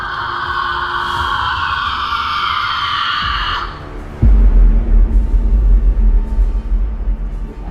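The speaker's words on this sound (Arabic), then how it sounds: "والناس سمعت في الوقت ده صوت صرخة" A loud, high wailing scream rings out for several seconds, then cuts to heavy low rumbling booms, an eerie effect for a horror tale about an Egyptian sorcerer.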